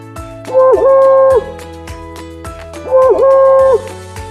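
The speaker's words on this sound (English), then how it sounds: "Owl." An owl hoots twice, each call a clear, sustained hoot spaced a couple of seconds apart, heard over a steady beat of background music.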